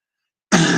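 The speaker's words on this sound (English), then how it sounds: "just kind of clearing my throat" A person with a cold gives one abrupt, harsh throat clear close to the microphone after a stretch of silence, lasting well under half a second.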